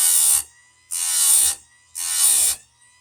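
A hand file sharpening a chainsaw chain: three rasping strokes, each about half a second, in an even rhythm with quiet gaps, close and fairly loud.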